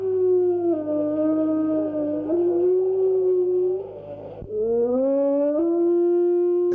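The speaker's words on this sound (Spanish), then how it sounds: "para que en las noches españolas no dejen de escucharse los hermosos aullidos del lobo" A wolf gives a long, clear, wavering howl, near and loud, rising and bending in pitch, breaking off briefly, then resuming with a second drawn-out cry.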